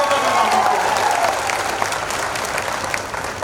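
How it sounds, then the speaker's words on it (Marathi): Audience at a political rally in Ghansawangi breaks into loud, dense applause, a steady roar of many hands clapping with crowd noise beneath, close and sustained before tapering slightly at the end. "सर्वांनी टाळ्या वाजवून"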